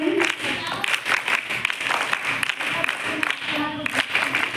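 Audience applause at an NSS camp closing ceremony in a school hall, a dense continuous wash of many hands clapping at steady loudness with a few louder swells, voices mixed faintly underneath.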